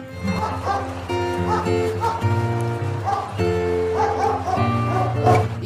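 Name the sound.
dog barking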